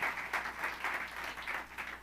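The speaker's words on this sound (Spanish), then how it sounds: "Un aplauso para ustedes," Applause from a seminar audience on habits, a steady crackle of clapping hands lasting about two seconds at moderate level, with no talk over it.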